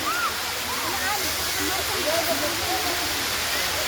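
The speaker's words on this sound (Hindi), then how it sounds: "बहुत बेजोर है, पानी गिर रहा है।" A waterfall at the Patna zoo water park roars in a loud, constant rush, with faint background sounds mixed into the spray.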